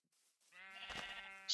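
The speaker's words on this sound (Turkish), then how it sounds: "Daha çok koyun." Sheep in the Minecraft video game give a single clear, drawn-out bleat that is harmonic and wavering, close and moderately loud against near silence.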